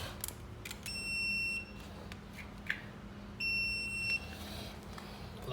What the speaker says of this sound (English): some people don't have this typical digital multimeter. This one's digital, so it makes a sound.